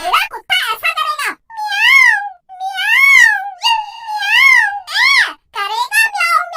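A child imitates a cat, giving several drawn-out, wavering meows one after another, loud and close, with bits of childish chatter around them.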